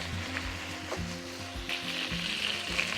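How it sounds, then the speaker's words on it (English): Chicken pieces fry in a pan for a fricassee, a steady crackling sizzle with occasional utensil scrapes and stirring sounds, close up and without speech. "now while that chicken is frying"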